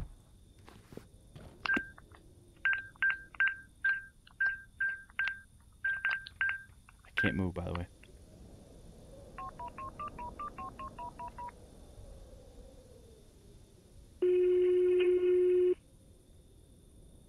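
DTMF keypad tones from a phone being dialed in the Greyhill Incident video game, a quick run of beeps, then a ringback-like tone and a long steady ring, with brief faint talk and a thump.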